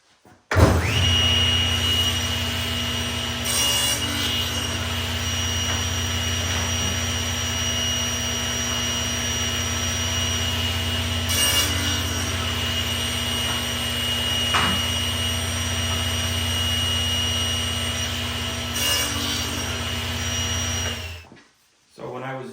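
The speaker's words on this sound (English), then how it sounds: "Using the crosscut sled, you could see that I wanted to cut 4 pieces all the same length" A table saw runs with a steady, loud whine through a long stretch while pieces of wood are cut to identical length on a crosscut sled in a home workshop, with a few brief bumps and surges before it spins down.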